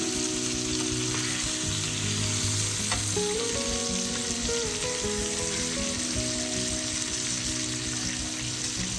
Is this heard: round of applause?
no